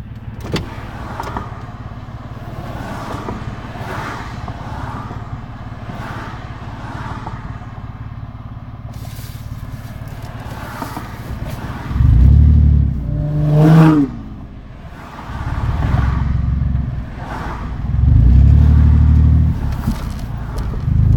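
Road traffic with cars passing along a highway where the right lane is closed for construction; a steady engine-and-tire wash swells into loud, close vehicle passes in the second half, with no talking.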